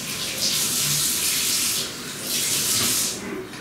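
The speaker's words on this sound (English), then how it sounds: "I'm going to go ahead and wash my hands first" Water runs from a tap as hands are washed, a soft hiss that swells and eases in two broad surges, with no voices over it.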